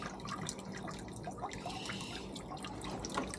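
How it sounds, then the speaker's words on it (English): Water from a pump's flexible hose trickles and drips steadily into a bucket pond filter, a continuous close splashing patter with no pauses. "Okay, I just put a flexible hose in this pump."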